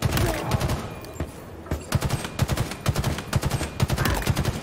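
Gunfire in the Halo Infinite video game rattles in fast repeated bursts, dense sustained volleys broken by a brief pause, loud and close.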